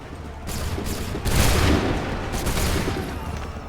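Musket volley gunfire from soldiers in Assassin's Creed 3, a few loud rolling bursts of massed shots that stand out over constant battle noise, with the heaviest volley near the middle.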